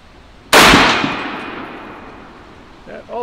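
An M1 rifle fires one loud, sharp shot on a shooting range. Its crack rings and fades over about two seconds, and a faint voice follows just after.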